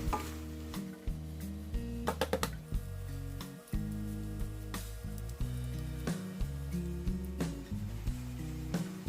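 Sliced onions with salt sizzle steadily in a pan over a medium flame for egg biryani. A spoon stirs them now and then, with soft scrapes and clinks against the pan throughout.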